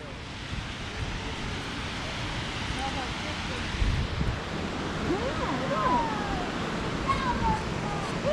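A waterfall in a gorge in Ithaca, New York, gives a steady broadband rush of falling water heard from nearby, with wind buffeting the microphone and faint voices in the background.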